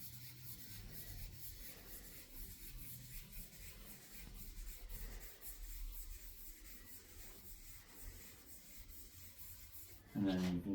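A French polish pad rubs over a wooden pig-shaped cutting board in small figure eights, a soft steady scuffing that runs close and continuous, swelling briefly louder near the end.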